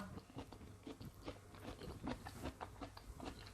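Crunchy ripe jackfruit bitten and chewed up close, a steady run of crisp wet crunches and mouth sounds repeating in an uneven rhythm at a quiet level.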